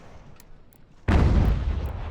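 Mortar artillery opening fire in Ultimate General: American Revolution, with faint clicks leading into one sudden loud blast that rolls on with heavy rumbling, close and without voices.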